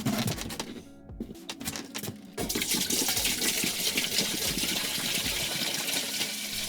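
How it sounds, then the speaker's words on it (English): Spring water from a dispenser pours and splashes into canning jars being rinsed for blueberry jam, a steady close gush of running water with a brief dip before the flow grows fuller and louder. "This is also spring water that I'm rinsing the jars with."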